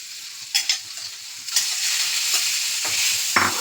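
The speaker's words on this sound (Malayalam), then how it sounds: "ബട്ടർ ഒന്ന് ചൂടായി വരുമ്പോൾ നമ്മളിവിടെ നേരാക്കി വെച്ച ചിക്കനില്ലേ ചിക്കൻ അതിലേക്ക് ഇടുക" Chicken pieces hit hot melted butter in a pan, giving a steady bright sizzle with a few stirring scrapes and clinks on top.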